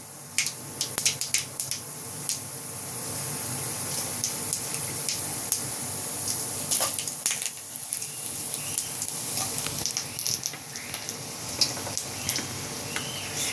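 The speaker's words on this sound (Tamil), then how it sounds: "அடுத்து கடுகு, இதெல்லாம் தாளிப்பு." Mustard seeds tempering in hot oil in a pan: a continuous close sizzle with scattered sharp crackles and pops throughout and some light stirring, with no talking.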